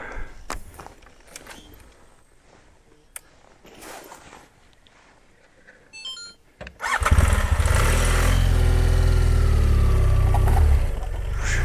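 A motorcycle on a rough rural road is started after quiet rustling and faint clicks, then its engine catches and runs loud and steady, close by, for the last several seconds.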